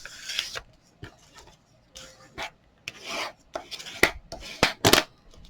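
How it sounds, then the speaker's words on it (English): Paper is folded and creased by hand, a series of close, crisp rustles and sharp scraping swipes coming in short irregular bursts with quiet gaps between. "You're going to fold it about 1/4 of an inch from that line, okay, like so,"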